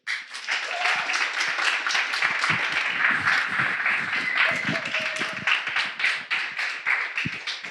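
Audience applause at a web development bootcamp demo day in Bordeaux, lively, dense clapping close by that rises quickly and stays steady throughout, with a faint voice briefly over it.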